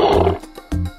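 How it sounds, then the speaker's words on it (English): A cartoon-style lion roar in a children's animal clip, one loud, rough burst that fades and then returns briefly, heard alone and close. "Lion."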